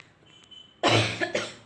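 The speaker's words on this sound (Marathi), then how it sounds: "खोकला खूप आहे ना" A woman with a cold gives a heavy, chesty cough: a loud burst followed by a second, harsher cough, close to the microphone after a brief quiet moment.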